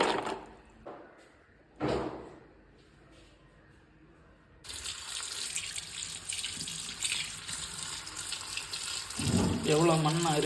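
Muddy peanuts are washed in water in a kitchen: after a few knocks, steady splashing and running water start and continue, with a voice speaking over it near the end.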